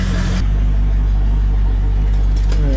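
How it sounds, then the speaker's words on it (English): A 1967 Ford Mustang engine idles with a steady low rumble, close and loud. The sound is continuous and even throughout. "That's why it's idling so good and so low."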